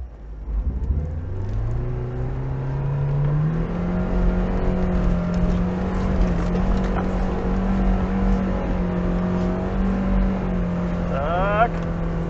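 A Lada Niva 4x4 on mud tyres, in second low gear, revs its engine and accelerates hard up a muddy hill, the steady drone rising in pitch and holding loud for several seconds with a brief whine near the end.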